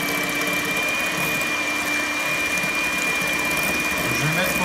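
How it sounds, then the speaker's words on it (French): Three egg whites are beaten into stiff peaks for a chocolate soufflé, most likely with an electric mixer: a continuous, close motor hum with a thin whine and a rattling beat, steady throughout. "je mets mes 3 blancs d'œufs et donc je vais les monter en neige"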